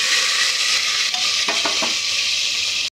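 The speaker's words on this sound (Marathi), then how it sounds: "आता कुकर मध्ये मी तेल घातले, त्यात हे आलं लसूण आणि कांदा घालते।" Ginger, garlic and onion frying in hot oil inside a pressure cooker, a loud close steady sizzle with a few quick stirring scrapes in the middle, no voices.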